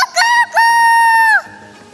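A person's voice imitates a rooster crowing in a studio setting: two loud, drawn-out, tonal cock-a-doodle-doo calls, a short one followed by a longer sustained one, then quiet.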